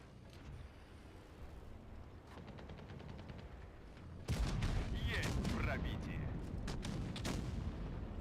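Tank gunfire in a video game, with a few faint earlier bursts and then a sudden heavy booming blast that rolls into a loud rumbling roar of battle noise, with a voice talking underneath.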